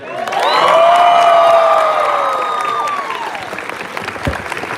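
Audience applauding and cheering at a Resident Evil panel at MegaCon convention, loud sustained clapping and whoops from a large crowd that swell quickly, then gradually fade over several seconds.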